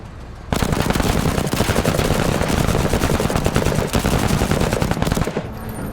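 Rapid automatic gunfire blasts from a video game firefight, a dense continuous burst of shots lasting several seconds, loud and close, with no talk over it.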